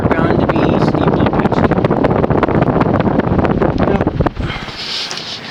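Encon High Breeze 42-inch industrial ceiling fan with a 56-inch motor and steeply pitched blades running fast, a loud, close, gusty rushing whoosh that drops to a softer hum near the end.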